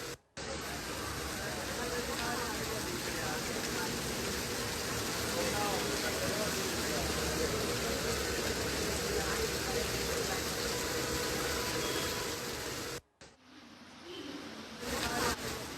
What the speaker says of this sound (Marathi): रात्रभर मुंबईमध्ये मुसळधार पाऊस बरसतोय